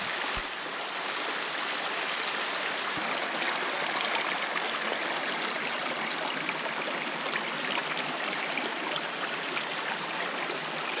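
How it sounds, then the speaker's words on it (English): Caney Creek in Arkansas rushes steadily at a backcountry creek crossing, a continuous broad wash of flowing water close by with no voices. "This looks like the final creek crossing that we'll do, as far as that's on the Caney Creek"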